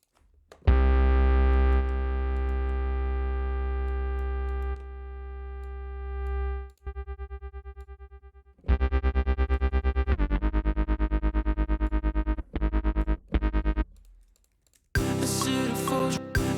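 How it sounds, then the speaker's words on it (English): A synth patch with a quick auto-pan effect plays sustained, harmonically rich chords that stop and start. Later the notes turn into a rapid, rhythmically chopped pulsing, with no one talking. "I'm also kind of curious what this patch could sound like, with a just a quick little auto pan on here."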